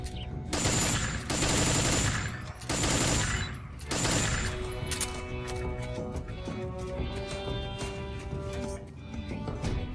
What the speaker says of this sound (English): I think you're gonna need a machine gun.